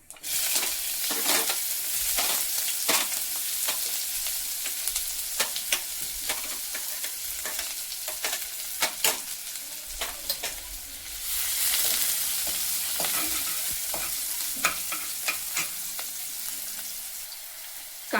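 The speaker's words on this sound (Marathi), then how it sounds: "आता इथे मी एका कढईत कांदा टाकून परतून घेणार आहे" Onion fries in oil with cumin in a wok (kadhai), a loud continuous sizzle broken by repeated spatula stirring scrapes and clatters throughout.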